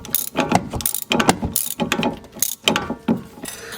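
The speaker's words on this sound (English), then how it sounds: "you're going to go in a loosening motion with the ratchet in order to tighten everything back together" A ratchet wrench clicks in quick bursts while loosening-direction strokes snug the strut bolts on a 2011 Dodge Charger, giving close, repeated rhythmic ratcheting with brief pauses between swings.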